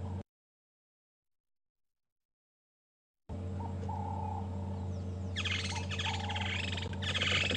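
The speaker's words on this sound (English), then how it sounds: "lots of birds calling around us, woodlands kingfishers, Cape turtle doves" Several birds call around a morning safari drive at Djuma and Arathusa, including woodland kingfishers and Cape turtle doves, with repeated trills and coos over steady bush ambience after a brief silent gap.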